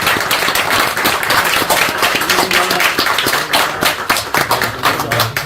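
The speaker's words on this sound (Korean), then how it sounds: "우리가 감사하다고 박수 한번 부탁드립니다" Audience at a church book concert breaks into loud, dense applause, many hands clapping steadily and close for several seconds.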